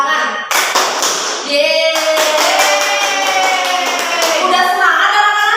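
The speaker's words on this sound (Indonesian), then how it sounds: "Kalau kesuka hati tepuk tangan" Children clap their hands along to a sung children's song in a classroom, steady rhythmic claps under the singing voices throughout.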